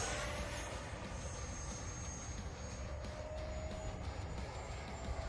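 An FMS 64mm EDF Rafale model jet loaded with ordnance passes at a distance, a steady faint ducted-fan whine with a thin high tone drifting slightly, mixed with heavy wind rumble across the field.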